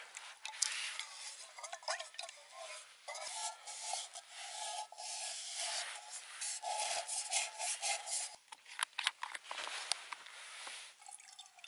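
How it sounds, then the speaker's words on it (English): Scrub pad rubbing and scouring a camping cook pot outdoors, close-up rhythmic scratchy strokes with wet swishes and small metallic scrapes, uneven in loudness with short pauses. "in the cook kit, I've got a little scrub pad"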